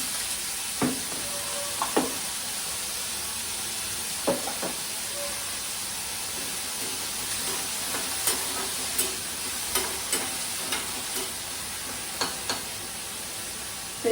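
An omelette cooks in a pan, seasoned with a little salt, giving a soft steady sizzle with occasional light scrapes and taps of a spatula, heard close and alone.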